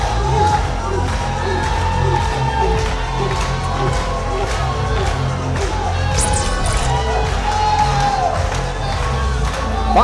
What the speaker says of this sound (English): This crowd is on their feet to greet the champion.